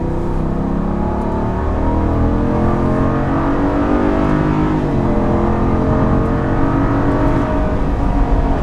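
A 2022 Jeep Grand Wagoneer Obsidian accelerates uphill from 40 mph, its engine droning loudly and steadily from inside the cabin while the pitch rises and drops at the gear shifts.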